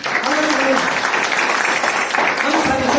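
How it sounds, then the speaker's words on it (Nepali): Congregation at a church service clapping together in thanks to God, a dense, steady wash of applause filling about three seconds, with some voices mixed in. "हामी परमेश्वरलाई ताली बजाएर धन्यवाद दियौँ।"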